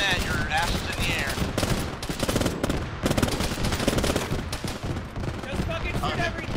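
Heavy, continuous gunfire in a military video game played by ShackTac, with rapid automatic bursts and shots layered into a loud, unbroken barrage throughout.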